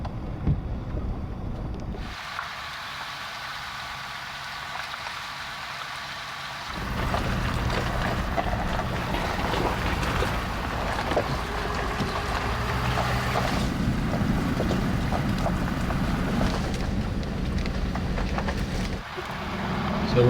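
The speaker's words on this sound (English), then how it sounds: "enjoying the sound of the waves" Waves wash steadily along the Swedish coastline in a continuous, broad rush, with wind buffeting the microphone and a sudden louder surge partway through; no voices.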